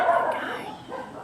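Neighborhood dogs bark in a brief, mid-distance burst of yaps, moderately loud and lasting about a second.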